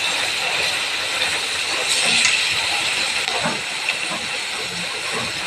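Onions frying in hot oil in a wok, a steady loud sizzling hiss that holds evenly throughout with small crackles, close and alone.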